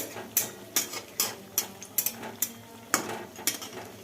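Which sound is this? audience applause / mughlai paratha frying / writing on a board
mughlai paratha frying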